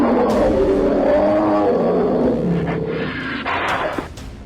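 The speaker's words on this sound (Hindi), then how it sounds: "भालू की गुर्राहट सुनिए।" A bear growls at a tiger along a jungle safari route, a loud, continuous rumbling roar that holds steady for several seconds before easing slightly toward the end, with no talk over it.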